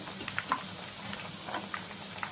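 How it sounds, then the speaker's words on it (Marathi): Cabbage fritters fry in hot oil, a quiet steady sizzle with small scattered pops and crackles, close by and alone without talk. "खरपूस रंगावरती आपल्याला ह्या तळून काढायच्या आहेत।"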